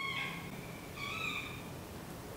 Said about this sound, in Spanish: Es posible que escucháis a mi gato llorar, porque lo he tenido que echar de habitación